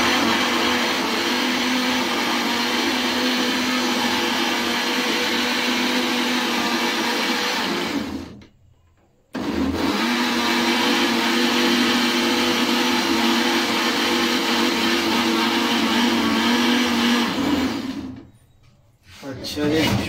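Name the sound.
blender grinding tamarind and plums for sharbat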